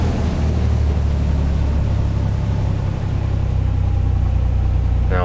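A Cessna in the Prepar3D flight simulator drones at low throttle with its engine pulled back, a steady, continuous hum holding at even loudness with no talk over it.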